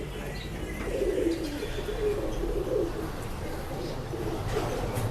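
A large male Chinese pigeon coos in low, soft repeated murmurs at a pet shop, steady throughout under a constant background hum with faint chirps from other birds.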